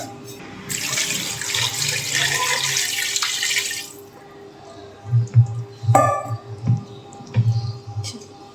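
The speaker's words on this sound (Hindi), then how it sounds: "अब इसमें थोड़ा सा और पानी जाएगा।" Water gushes steadily into a pot for a few seconds, then stops, followed by a few soft clinks and knocks of cookware nearby.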